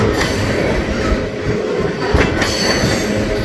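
A long freight train made of two full trains coupled together rolls past close by, a steady loud rumble of rail cars with wheel clatter and faint squeal throughout.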